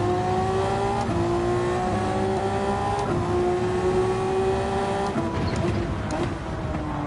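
A Honda NSX GT500 race car in Gran Turismo 7 at Spa drones at steady high revs, its engine tone holding level with brief pitch steps at gear changes.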